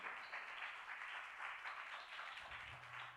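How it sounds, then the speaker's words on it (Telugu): Children clap their hands together at a prayer rally, a steady, dense patter of many small hands that carries on evenly without a break. "చప్పట్లు కొట్టండి"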